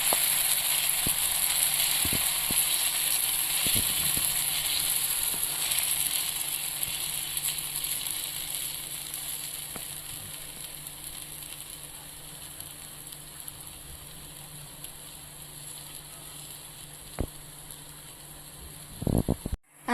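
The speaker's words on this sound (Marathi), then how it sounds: "तवा आता छान तापलेला आहे, आता आपल्याला हे त्याच्यावर टाकून घ्यायचं" Sorghum flour batter poured and spread on a hot iron griddle (tava) gives a steady, close, bright sizzle and hiss, with a few light clicks and scrapes and a clatter at the end.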